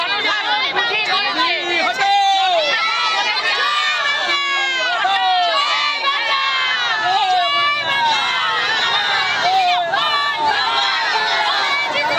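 Trinamool Congress supporters celebrate an election win in a loud, dense crowd, with many overlapping shouting voices and excited cheers that carry on without a break, close and lively throughout.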